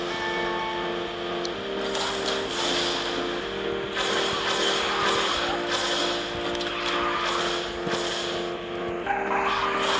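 A game car drifts continuously in QQ Speed Mobile, with a sustained engine drone and tire squeal over steady background game music.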